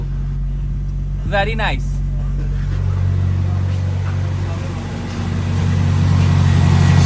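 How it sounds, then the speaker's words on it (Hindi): A car fitted with a Toyota 2ZZ engine starts and settles into a steady, smooth idle, a low continuous rumble close by, with someone briefly speaking over it. "गाड़ी स्टार्ट करो जरा।"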